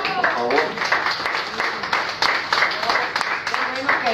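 An audience at a live group event applauds with steady, dense clapping throughout, heard under a voice speaking over the crowd.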